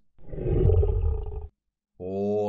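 Deep, powerful animal roar used as a bear sound effect for a donation alert, a single loud growling burst lasting over a second, then a brief gap and a second sustained tonal roar starting.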